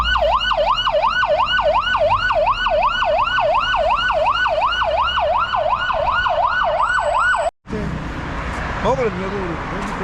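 An ambulance siren wails in a steady, fast rising-and-falling cycle, loud and close, before cutting off abruptly into quieter street sound.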